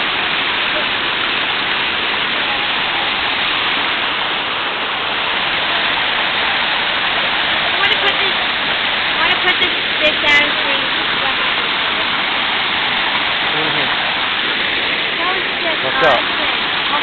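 Waterfall on the Delaware River in Pennsylvania, a steady loud broadband roar of falling water filling the whole stretch, with a few brief faint voice fragments near the end.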